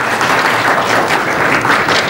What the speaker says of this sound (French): C'est tiède les applaudissements.